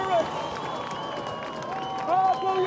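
A high school football crowd at a home game against the Naches Valley Rangers cheers and applauds, swelling into a steady roar. The crowd noise sits under a commentator talking over it.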